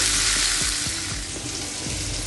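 Chopped onion and garlic frying in hot oil, a steady loud sizzle throughout with a few soft stirring scrapes underneath, no voices.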